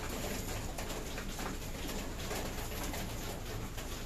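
Pigeons coo in soft, repeated low calls against a constant dense background hiss from a loft where birds crowd a trapdoor entrance, steady throughout with no talking.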